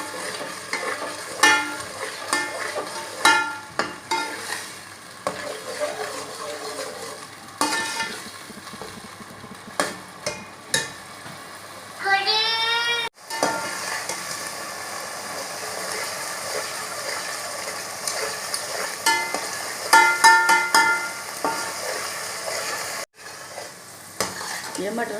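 Green peas frying in a pan under a continuous sizzle, with repeated scraping and rattling strokes of a spoon stirring them up close, briefly broken by a pause midway before the stirring resumes.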